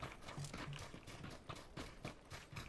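Horse hooves in the game PUBG, a quick run of soft rhythmic clip-clop hoofbeats in steady gallop, faint and fairly distant, heard on their own.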